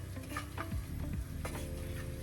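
A utensil stirs fragrant spices in a sizzling pan for Hyderabad mirchi salan, with scraping strokes over steady frying crackle, close and fairly loud, with no voices.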